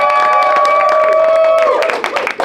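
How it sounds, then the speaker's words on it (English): Comedy show audience clapping and cheering for a comedian: dense close applause with whoops, and a sustained tonal whistle-like cheer, loud throughout and tapering near the end. "only clap for who you think should win"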